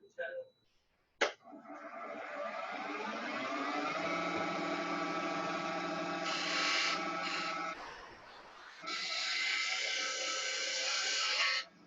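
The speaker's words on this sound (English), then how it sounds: "I'm going to go ahead and take a nice clean cut with a spindle gouge" Spindle gouge taking a clean cut on a wood-turning lathe, a sharp knock followed by a sustained whirring, humming tone with shifting pitch, close and continuous for about ten seconds, briefly dipping before resuming.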